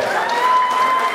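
Wedding guests at a civil marriage evening party applaud the couple, a short stretch of steady, moderately loud clapping with a sustained musical tone running beneath.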